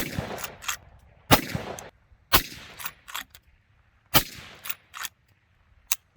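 A Henry Long Ranger Express rifle with a threaded muzzle fires a series of sharp, loud gunshots at irregular intervals, some closely spaced, with short decaying echoes between them.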